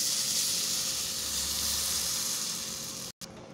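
Onions sautéed in a pan sizzle loudly as batter is poured in, a steady close frying hiss that cuts off briefly near the end.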